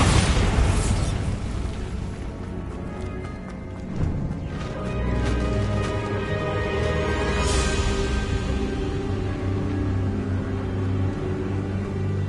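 A Bombarda spell explosion in the Hogwarts Legacy video game, a loud close blast that rolls into a sustained, rumbling roar with further muffled bursts.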